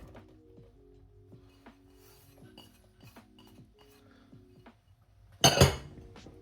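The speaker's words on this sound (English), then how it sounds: "I'll add all my other raw ingredients. So I'll add them now." Raw peppers, onion and carrot are tipped into a pan: quiet clinks and scrapes of utensils, then a short loud burst as the vegetables land.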